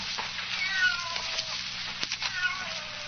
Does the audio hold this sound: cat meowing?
yes